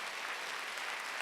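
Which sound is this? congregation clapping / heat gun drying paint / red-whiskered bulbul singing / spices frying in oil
congregation clapping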